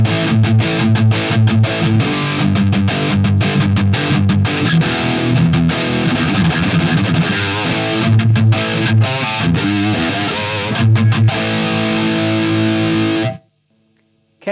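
Heavily distorted electric guitar through a Marshall JVM 410H amp head in OD2 red mode, driving a 1960AV cabinet miked with an SM57, plays a loud, continuous riff with chugging stops, then cuts off abruptly to silence near the end.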